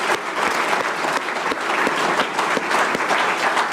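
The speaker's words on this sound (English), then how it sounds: "I think they owe a round of applause for themselves" A crowd applauds after a speech celebrating a Georgia primary runoff victory. The clapping is thick and continuous, a full roomful of hands at an even volume throughout, with no speech on top.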